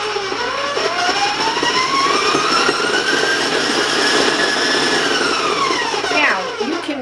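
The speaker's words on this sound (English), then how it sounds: "the mixer can be loud, so I'm going to give you a heads up every time that I turn it on" A loud, steady stand mixer motor whirs with a rising and falling whine while creaming butter for chocolate sugar cookies, then winds down and slows near the end. No voices.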